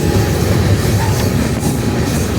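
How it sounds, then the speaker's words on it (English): A freight train on the Colton to Dunsmuir California line rolls past loudly and close, with a continuous heavy rumble of wheels and cars plus faint squeals, no talking. "Wow, that's the train."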